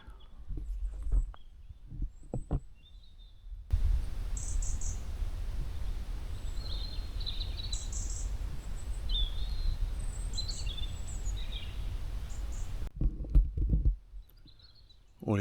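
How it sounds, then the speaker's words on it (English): Birds sing at a wild camp in the Scottish Highlands, with scattered high chirps and short trills over a low rumble of wind or handling noise. A few faint, sharp knocks come at the start and end. "All you could hear is bird noises."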